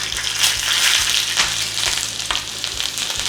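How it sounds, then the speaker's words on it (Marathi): Mustard seeds, cumin, asafoetida and chili crackle and sizzle in hot oil for a home tempering, a close, steady frying hiss with sharp popping bursts throughout and no talking. "मोहरी झाली की जिरे हिंग थोडी मिरची"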